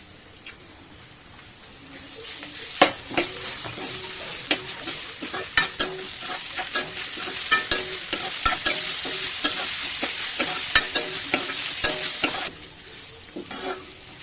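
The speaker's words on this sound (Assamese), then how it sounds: "আদা নহৰুখিনি অকণমান ভাজি হৈ গ'ল।" Ginger garlic paste sizzles in oil with golden-fried onions for an Assamese duck and ash gourd curry, a loud close fry broken by frequent sharp spoon scrapes and clinks against the pan as it is stirred.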